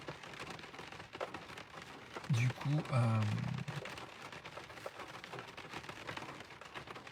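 Steady rain patters across the whole clip, with a person speaking briefly in the middle over the dense hiss of falling drops.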